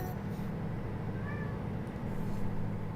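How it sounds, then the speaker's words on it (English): A cat meows once or twice at moderate distance over a constant low engine-like drone, with no one talking. "You meow at me, then you run off."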